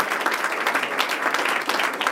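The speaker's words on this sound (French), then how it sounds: "on va t'applaudir tous" Guests at a cocktail reception in an office clap together, a dense, fairly loud burst of applause lasting about two seconds with a bright, crackling texture.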